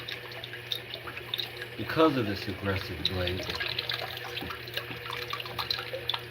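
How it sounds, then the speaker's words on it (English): Water running from a tap onto a blade sharpening stone, a steady splashing trickle with a brief louder gush, heard beneath someone speaking throughout. "now we've got a constant water source"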